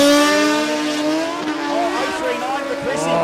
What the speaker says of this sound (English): Chris Shaper will be out first on the BMW.